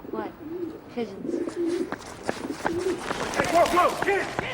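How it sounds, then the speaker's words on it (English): Pigeons cooing in soft, repeated low warbling calls, fairly close, with scattered clicks and rustling around them and a rising busier din toward the end. "The pigeons!"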